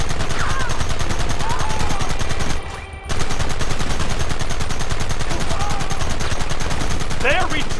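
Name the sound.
gunfire in Red Dead Redemption video game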